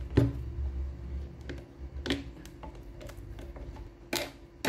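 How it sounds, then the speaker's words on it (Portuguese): Small sharp clicks and clinks as screws are taken out of a Britânia orange juicer, scattered irregular ticks spread over several seconds, close and fairly faint, with a low hum underneath and no talk. "E a gente vai tirar aqui esses parafusos."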